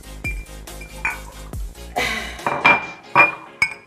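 Whiskey glass clinking against other glassware in short, bright taps scattered over a few seconds, with some handling clatter and no talk.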